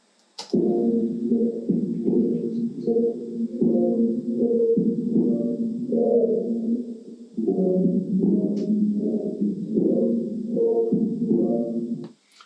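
A processed, droning melodic phrase with hollow, whale-like tones, played in steady repeating pulses with a brief break midway, no voices.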